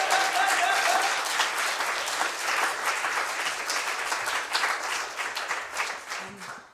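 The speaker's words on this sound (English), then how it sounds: "Can you just give her a massive round of applause?" An audience claps for a poet at a poetry and science event, with full applause that gradually loosens into scattered, uneven clapping as it fades out.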